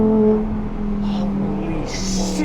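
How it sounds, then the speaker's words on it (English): An Audi R8 V10 Plus on a hillclimb gives a loud, steady engine note that shifts pitch as it changes gear. "The up and downshifts are absolutely brutal."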